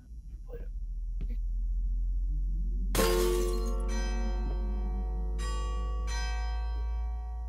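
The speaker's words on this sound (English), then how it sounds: "Sound like glass breaking." Glass shatters loudly in the horror video game Layers of Fear, a sharp crash followed by ringing, bell-like resonance that decays over several seconds above a low steady rumble, with further tinkling hits.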